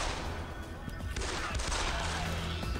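Gunfire from the video game Deus Ex: The Fall: dense, loud bursts of rapid shots rattle continuously across the clip, with a voice faintly in the background.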